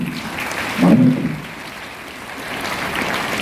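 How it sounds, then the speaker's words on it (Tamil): Teachers in the audience at a Rotary International teachers' awards ceremony applaud together, a steady wash of clapping that swells briefly near the start and then holds at a moderate level. "கைதட்டுங்க டீச்சர்ஸ்"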